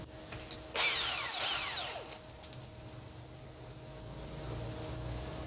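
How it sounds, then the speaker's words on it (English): A 27 mm socket on a power tool breaks loose a brake nut on a 2001-2005 Ford Explorer, a short loud whirring burst with a metallic ratcheting edge that quickly fades into a quiet garage. "So it's going to be a 27 millimeter to take that nut off."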